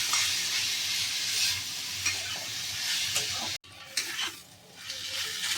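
Onions and vegetables sizzle and crackle in a pan with cumin, coriander and chili powder plus salt, stirred with steady scraping; the frying stays loud and continuous, pauses abruptly, then resumes more faintly.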